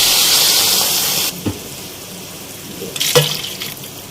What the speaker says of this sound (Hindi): और यहाँ मैं इसमें शामिल करूँगी अब पानी, ताकि हमारा जो गोश्त है वो अच्छी तरह से गल जाए।